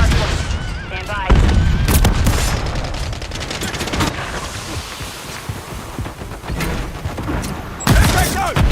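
Video game combat with gunfire and a Semtex grenade blast, a dense rattle of shots and booms that runs the whole way through, with heavy hits near the start and near the end, and voices talking under the fighting.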